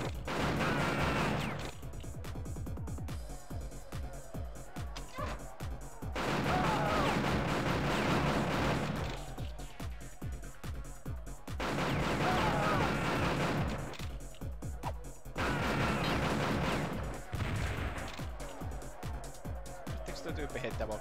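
Video game gunfire, repeated bursts of shots and heavy booms in several loud waves, with someone talking over the quieter stretches between them.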